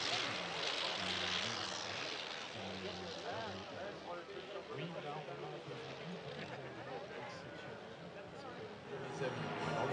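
A Morane H and a Bleriot XI-2 drone overhead at the La Ferté-Alais airshow with a steady propeller engine buzz, while a voice talks over the noise.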